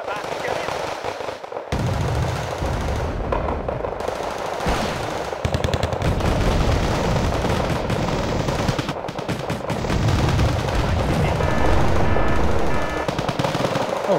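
Machine gun and gunfire in Wargame Red Dragon: a dense, continuous rattle of automatic fire with layered bursts and distant blasts, loud and sustained throughout, with voices talking faintly beneath it.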